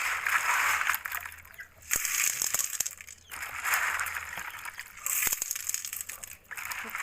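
Sea shells gathered from the shore, gritty with sand, being swished and rubbed in water by hand in repeated bursts of sloshing and crunchy scraping, close up and moderately loud.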